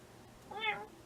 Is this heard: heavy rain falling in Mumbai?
no